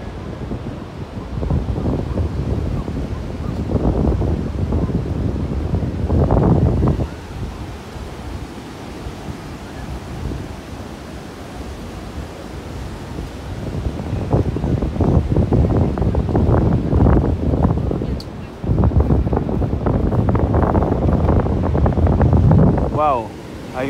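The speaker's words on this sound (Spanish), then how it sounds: "Wow, hay unas olas bastante grandes de este lado." Large ocean waves roll and crash on a surf beach at Geribá in Búzios, Brazil, a continuous roar of surf with wind buffeting the microphone and a voice speaking over it at times.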